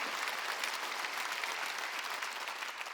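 A congregation at a Korean church Wednesday worship service claps steadily and loudly for the whole stretch, a dense, even wash of applause with no voices on top.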